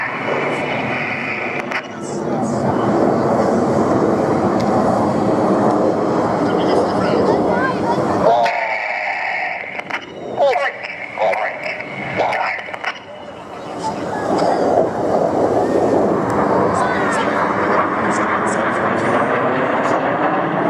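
Red Arrows BAE Hawk jets roar loudly overhead during a flying display at the Midlands Airfestival, with the jet noise dipping briefly midway, and an announcer talks over it.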